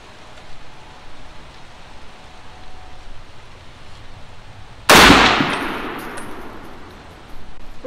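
A single M1 rifle shot cracks loud and sharp after a quiet stretch, then its echo trails off over a couple of seconds.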